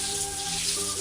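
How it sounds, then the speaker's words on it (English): Water spraying from a water pipe used to wash farm animals in a children's cartoon: a steady, hissing rush of spray held for about a second, alone and fairly close. "Let's use this water pipe to wash them clean. Switch on the water."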